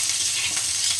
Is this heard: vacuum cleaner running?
no